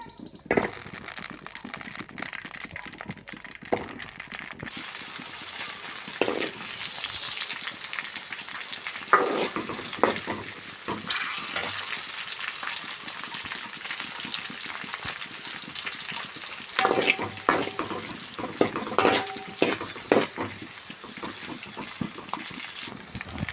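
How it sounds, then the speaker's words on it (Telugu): Green chillies frying in hot oil in a pan, a continuous crackling sizzle with scattered sharper pops and occasional stirring scrapes, close and moderately loud throughout. "కొంచెం ఆయిల్ వేసుకొని పచ్చిమిర్చి వేసుకుందాం"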